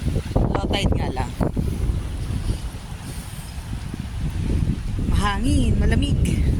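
Strong gusts buffet the microphone on the beach at Bantayan Island at low tide, a steady, loud roar of wind over surf that swells toward the end while people talk through it.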